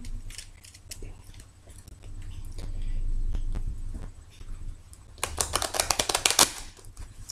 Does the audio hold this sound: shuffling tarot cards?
yes